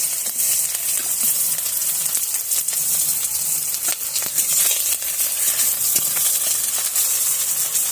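Onions sizzling in a kadai over a clay stove, a continuous close crackle and hiss of frying with scattered clicks and stirring scrapes, moderately loud throughout.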